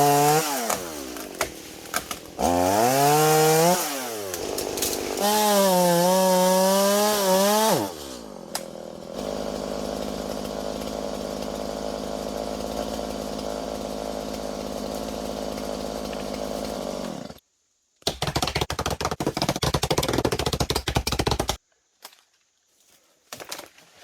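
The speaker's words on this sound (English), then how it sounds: "we'll also need to cut that branch there" A chainsaw cuts a tree branch during hinge cutting for deer habitat, revving in loud rising and falling bursts before a long steady cutting drone, then another short loud burst and a stop.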